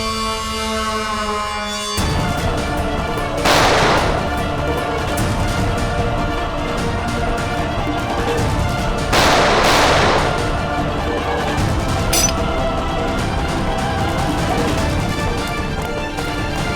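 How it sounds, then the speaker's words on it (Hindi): Gunfire in a tense forest standoff from a crime drama, with two loud bursts over a sustained dramatic music bed, followed by a sharper crack later on. "मैं गोली चला दूंगा।"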